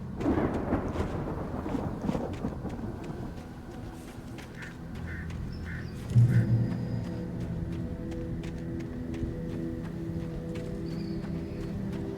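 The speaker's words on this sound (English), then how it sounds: "The storm raged on as the Anderson brothers walked unsteadily" A thunderstorm in the video game Alan Wake rumbles on as a low, continuous roll of thunder under steady rain-like noise, swelling briefly near the middle before settling into a sustained murmur.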